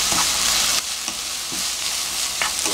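Bottle gourd, about 380 g, stir-frying in a pan, giving a steady close sizzle with a few brief scraping stirs and a drop in intensity partway through.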